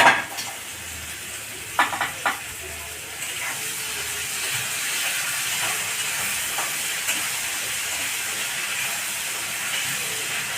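Katla fish curry gravy sizzles steadily in the pan as it's sautéed, a continuous hiss with a few sharp clinks of a spoon stirring near the start; no voices.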